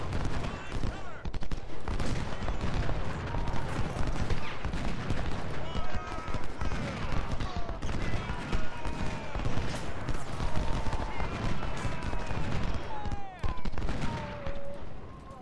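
Artillery and musket fire in the Civil War strategy game Ultimate General: Civil War at the Battle of Chickamauga, a dense, continuous barrage of booms and crackling volleys that goes on throughout, with a voice talking over it.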